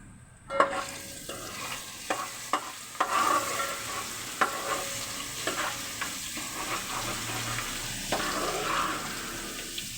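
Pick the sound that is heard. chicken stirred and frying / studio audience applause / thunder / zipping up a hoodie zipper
chicken stirred and frying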